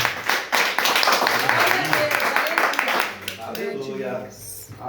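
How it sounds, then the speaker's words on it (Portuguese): A church congregation claps hands together in a fast, lively rhythm, loud and close, with voices talking and calling out over the clapping before it fades. "vamos receber então o presbítero Gilson com as palmas bem alegres no nosso Senhor Jesus"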